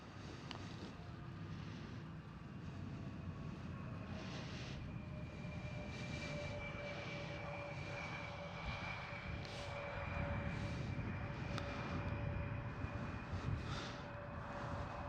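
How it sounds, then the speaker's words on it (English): A KLM Cityhopper Embraer E175 jet passing at Amsterdam Schiphol airport, a steady broad engine roar with a thin whine running underneath, loud and continuous throughout with no one talking. "Right here is a KLM Cityhopper"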